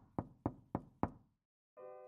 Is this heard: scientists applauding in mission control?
no